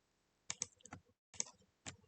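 A computer mouse clicks on a link during a school computer-science lesson: two quick clusters of sharp, close clicks separated by a short pause, in an otherwise quiet room.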